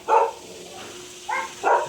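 Dogs at an animal shelter give three short bursts of barking, near and fairly loud, with quiet gaps between.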